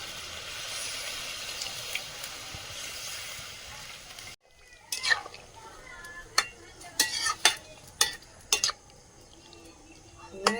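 Chicken for biryani being stirred in a pan: a quiet sizzling hiss at first, then a series of sharp metallic scrapes and knocks of a utensil against the pot, spaced irregularly after a brief pause.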